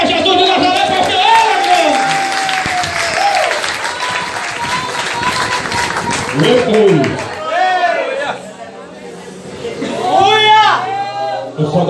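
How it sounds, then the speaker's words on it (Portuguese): A church congregation at a youth retreat night claps and applauds in a loud, sustained wash, with crowd chatter and a voice speaking over it. "dá uma salva de palmas para Jesus de Nazaré"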